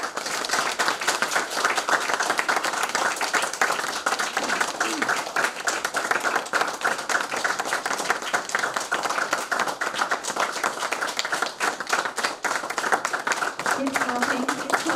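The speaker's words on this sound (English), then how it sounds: "A round of applause, please." An audience at an event honouring Professor Ngugi wa Thiong'o claps in sustained, dense applause with individual sharp claps, while a voice speaks over it.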